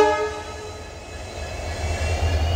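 An electric locomotive rolls through a railway station with a steady low rumble of wheels and cars, overlaid by a sustained harmonic horn tone that fades as the train moves on.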